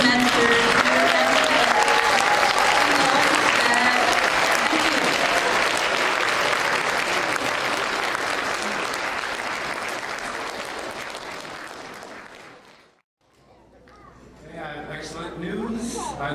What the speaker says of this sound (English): So why don't you all give one last round of applause to